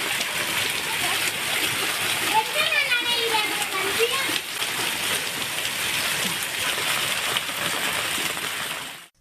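Heavy summer rain pours on a flooded street in Oddanchatram, Dindigul district, Tamil Nadu, where a boy swims, making a dense, continuous hiss while children's voices and shouts come through.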